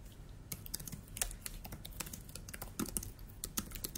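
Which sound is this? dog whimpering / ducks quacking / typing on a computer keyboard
typing on a computer keyboard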